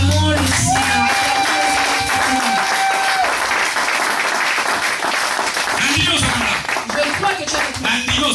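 Church congregation applauding during a Sunday worship service, a dense wash of clapping throughout with crowd noise, voices and sustained tones from music mixed in.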